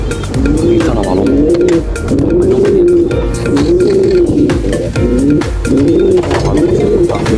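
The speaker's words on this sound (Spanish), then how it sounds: "Aquí está la paloma." A mixed Valencian and racing pigeon coos close by, a steady run of rolling, repeated coos in a rhythmic cycle, loud and clear throughout.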